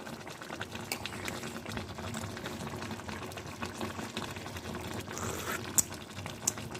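A pot of radish with sardines simmers on the stove, its low bubbling boil steady under faint kitchen clatter. Two sharp clicks stand out near the end.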